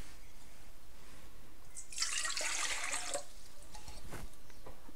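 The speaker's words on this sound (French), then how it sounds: "nous allons mettre de l'eau" Water pours into the bowl of a food processor for homemade burger bun dough, a steady splashing rush lasting about a second and a half amid a quiet kitchen, followed by a couple of faint drips.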